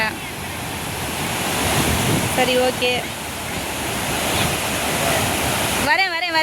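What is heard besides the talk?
sea waves and water at the shore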